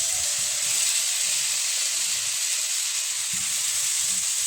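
Chopped large tomatoes sauté in a pan for tomato kurma, giving a steady, loud sizzling hiss with soft low bubbling underneath throughout.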